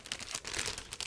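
Plastic bag crinkling as plastic sprues from an ICM 1/48 UH-60A Black Hawk model kit are unpacked, a short close burst of soft rustling and crackling.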